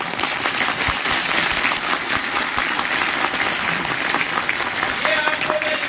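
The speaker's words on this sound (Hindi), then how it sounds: "तालियां कम बजी, तालियां कम बजी।" Sustained applause from a large audience at a speech during a job fair event in Gwalior, steady and dense clapping throughout with crowd noise.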